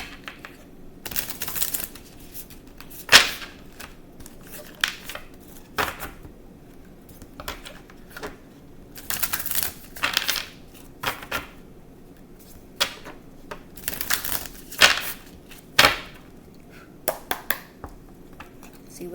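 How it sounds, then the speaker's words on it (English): Tarot cards being shuffled in bursts of crisp riffling and flicking snaps, recurring every few seconds with quiet gaps between, close and moderately loud. "I'm going to shuffle."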